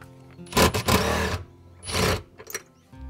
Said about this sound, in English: Now to remove the seat belts, you'll need a 14mm socket.